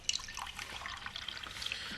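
Liquid pouring and trickling into a cup as a drink is poured, a short, close, gurgling stream with light splashy drips and no talk.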